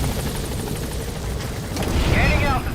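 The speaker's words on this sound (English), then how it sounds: "Let's go ahead and get on the chopper and leave the mission area." Helicopter in Metal Gear Solid V: The Phantom Pain, a steady close rotor thump and engine roar that swells louder toward the end as the aircraft gains altitude, with no voices.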